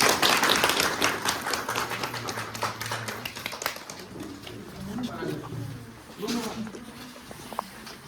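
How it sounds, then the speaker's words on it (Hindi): Audience clapping at a hospital inauguration at the Community Health Centre in Munsyari, Uttarakhand. A dense burst of applause opens the moment, then thins and fades beneath ongoing talk and crowd murmur. "ताली बजाइए।"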